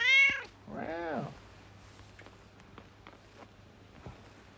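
A small kitten gives two high, wavering meows close by, followed by soft scattered taps and shuffling in a quiet room.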